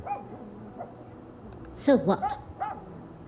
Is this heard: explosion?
no